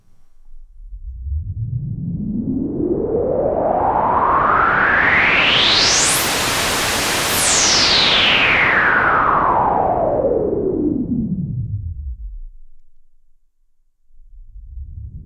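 Broadband white noise hiss from a Sequential Take 5 synthesizer swept by its SSI2140 low-pass filter, opening up to a bright wash, then closing down to a dull rumble, followed by a brief return.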